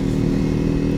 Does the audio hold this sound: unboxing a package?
no